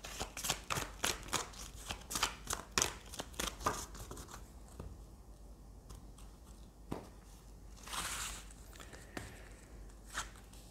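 Tarot cards shuffled and dealt out, a quick run of crisp riffling slaps in the first few seconds, then scattered soft card flicks and slides in a quiet room.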